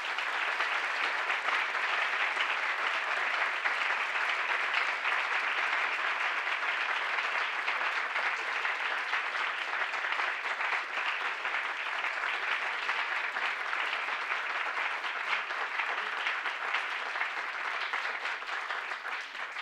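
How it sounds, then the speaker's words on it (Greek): Sustained audience applause at a Cypriot commemorative event on 1974–2024, a steady dense wash of clapping that holds evenly throughout without pause. "Ένα καλό χειροκρότημα για τον κύριο Γεωργιάδη."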